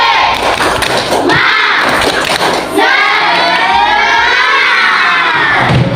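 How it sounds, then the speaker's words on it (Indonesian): Schoolchildren in a classroom doing a rhythmic spirit clap, loud and close, with thumping claps and shouted chanting voices over the beat. "Kita tepuk semangat."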